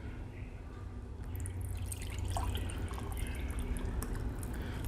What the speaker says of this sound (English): We're gonna take all that wonderful juice and water, pour it into this bowl